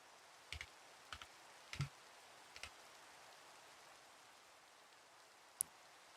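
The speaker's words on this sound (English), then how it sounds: "my keyboard's really janky, so I can't really type it in correctly," Someone types a password on a janky computer keyboard: a handful of faint, isolated key clicks spaced unevenly across a quiet room.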